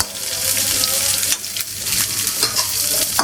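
Spinach and corn tossed in a hot pan sizzle loudly and continuously, with scraping stir strokes and occasional sharper crackles throughout.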